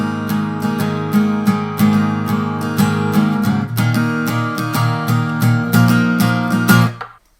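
Guitar power chords from a song, moving from E5 to B5 in a steady down-up strumming pattern with muted string chops, loud and close, ending in a sharp cutoff.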